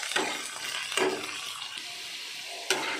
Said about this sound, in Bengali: আলুর মধ্যে নুন হলুদ দিয়ে আপনারা ভেজে নেবেন।